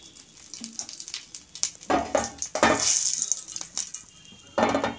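Whole cumin seeds hitting hot oil in a pan for a fish curry, crackling and sizzling in uneven bursts, loud and close, flaring sharply midway and again at the end.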